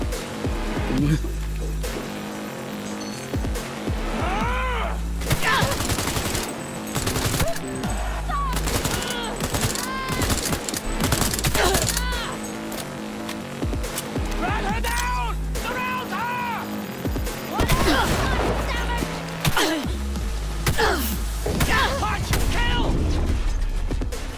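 Gunfire in Cyberpunk 2077 gameplay, with loud rapid bursts and single shots going off repeatedly and some booms, while a player talks over the action.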